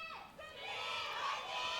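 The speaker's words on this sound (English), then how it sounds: "There's a louder cheer for them this time." Crowd cheering at an Overwatch esports match, a sustained roar of many voices swelling slightly and holding steady, moderately loud, with no single voice standing out.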